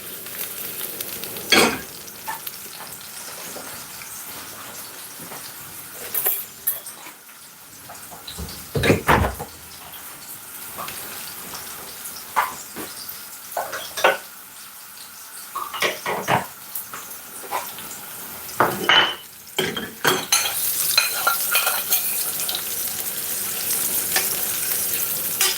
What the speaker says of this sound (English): I'm gonna sweat the garlic off. Just wanna brown them off a little bit.